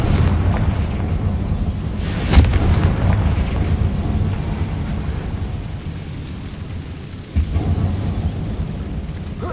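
A Confringo fire spell explodes in the video game Hogwarts Legacy, producing a loud rumbling boom with a sharp burst and a sustained low roar that fades, then a second thump near the end.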